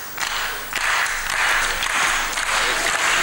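An indoor badminton hall crowd at a women's singles final breaks into steady, dense applause that fills the whole moment, loud and continuous with a few louder swells.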